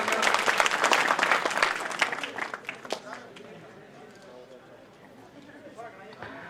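A crowd at a Prajapati community talent award ceremony in Bidasar tehsil gives loud sustained applause to welcome a young guest, the clapping gradually thinning out after a few seconds.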